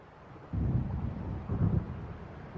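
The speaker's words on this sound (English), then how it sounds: "It seems there's a storm coming." Low rumbling thunder of an approaching storm in the video game Alan Wake, two swelling rolls over a dim windy background, with no one talking.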